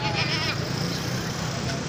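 A nanny goat with her kid at a railway station cargo point, bleating steadily against a dense, noisy background, close and fairly loud, with no clear talk.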